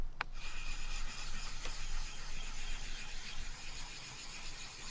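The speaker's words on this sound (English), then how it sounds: "the way you use this is to create a slurry on top of the stone, and it's the slurry which is abrasive and actually polishes the blade." A knife blade is rubbed back and forth on a sharpening stone coated with Nagura slurry, a quiet, steady gritty scraping with a sharp click at the start.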